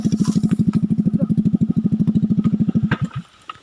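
Motorcycle exhaust putting out a loud, fast, even pulse up close on a road near Buntay hills in Magdalena, running steadily before sputtering and cutting off near the end.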